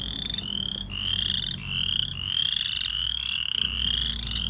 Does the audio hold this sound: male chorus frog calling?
yes